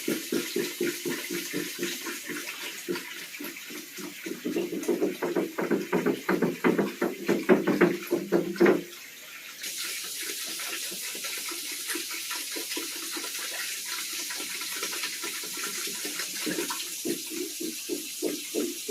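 Tap water runs steadily into a basin, pausing briefly partway through before the stream resumes, a continuous close rushing and splashing sound.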